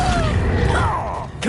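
A summoning spell cast in the Hogwarts Legacy video game, a swooshing magical whoosh with rising tonal sweeps over a dense low rumble of game sound, ending in a brief swell.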